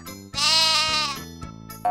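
A sheep bleats in a long, wavering cry after a short lead-in sound, followed by a shorter bleat and a brief higher call at the end, loud and close.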